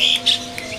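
A ciblek songbird at an Indonesian bird market gives a couple of short, bright high chirps close by over a steady background hum.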